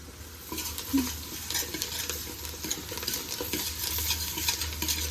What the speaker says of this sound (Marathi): आधी हे लसूण टाकून घेतलं याच्यामध्ये चांगलंच गरम झालं आहे बटर सगळं